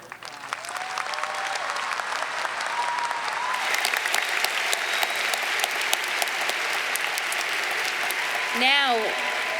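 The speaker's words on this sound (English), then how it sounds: "Let's give those candidates one more round of applause" Sustained applause fills a commencement ceremony hall as the audience claps for degree candidates, a dense steady roar of hands with a few cheers, running loud and even throughout with a brief whistle-like tone near the end.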